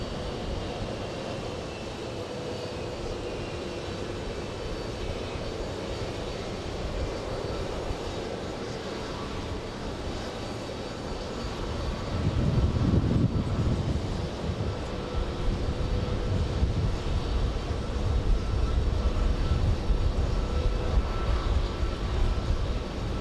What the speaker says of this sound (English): Flying to Orlando, we have JetBlue 483